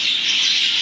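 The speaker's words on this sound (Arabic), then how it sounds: "وأول ما نبديه ويا طيور الحوض" Birds at a pond in a nature reserve give a short, bright burst of chirping, close and loud.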